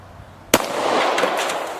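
A single sharp, loud shotgun blast at a target at close range, at about three yards, followed by a brief rumbling tail.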